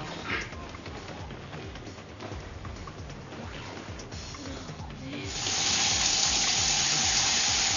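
Hot water runs from a tap: a faint wash at first, then a loud, steady hissing gush after the flow opens up, with no talk over it.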